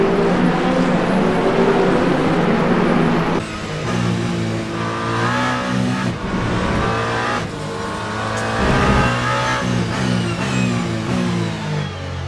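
A race car engine in the Le Mans Ultimate racing game, at Bahrain International Circuit, roars loud and close, dropping briefly then climbing through revs as it accelerates uphill, with no talking.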